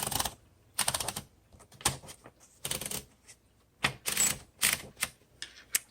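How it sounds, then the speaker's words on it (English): Paper is rolled into a 1952 Royal Quiet De Luxe manual typewriter by turning the platen knob, giving a series of short, close ratcheting bursts separated by brief pauses, with no voices. "All you have to do is just set the paper there and then turn the handle."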